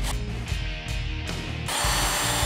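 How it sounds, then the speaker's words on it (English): A power drill bores a half-inch-deep hole into wood, its motor whirring steadily with a few brief dips in load before rising to a louder, fuller drone near the end, close and without talk. "So that way, when we drill our hole, we're just going to drill down to the edge of our masking tape."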